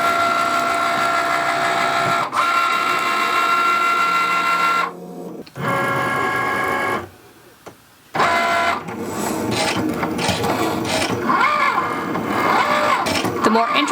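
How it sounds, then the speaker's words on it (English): A Cricut Maker cutting machine whirs and buzzes steadily as it cuts a plastic sheet on its mat, with brief pauses where the carriage stops, and a person talking over parts of it. "And press the go button to start cutting."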